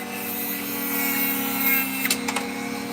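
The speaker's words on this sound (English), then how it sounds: "clamping a Dremel and just carving around it, that just seems to work for me" A clamped Dremel rotary tool whines steadily while carving opal, a continuous high buzzing hum with a few short scraping touches near the end, and no talking.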